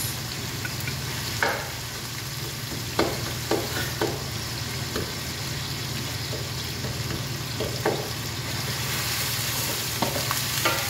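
Pasta sauce with two stock cubes sizzles in a pan while being stirred, with utensil scrapes and clicks recurring at an irregular rhythm over a constant close frying hiss.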